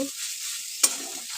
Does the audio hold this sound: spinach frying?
yes